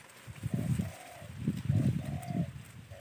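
Spotted doves cooing near a cleared field by an oil palm plantation, several soft rhythmic coo phrases repeating one after another, fairly close and alone over quiet background.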